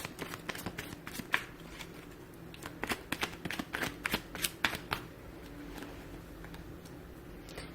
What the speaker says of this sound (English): I'll shuffle my cards over here and see what we get for you here.